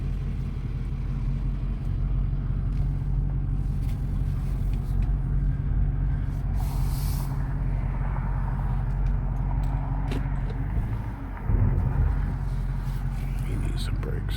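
A 2015 Dodge Charger Hemi with a P0523 oil pressure sensor circuit fault on a test drive, its engine and road noise a steady low rumble from inside the cabin, with someone speaking throughout.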